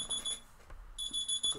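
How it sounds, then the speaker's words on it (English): A digital alarm clock gives quick, high, thin electronic beeps in two short clusters with a gap in the middle, faint and fairly close over a low background. "It's an alarm that I have for some reason."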